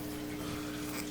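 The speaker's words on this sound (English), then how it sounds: "we're going to take this out of the water, kind of let that drain a little bit" Water drains steadily from a siphon tube lifted out of a tank on a DIY drip-system overflow, a faint, continuous trickling wash with a low hum beneath it.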